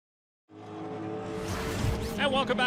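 Sports race cars circle Canadian Tire Motorsport Park during a 2022 Sports Car Championship Canada Labour Day sprint race. After a short silence, a steady engine drone swells in and builds, with whooshing passes near the end.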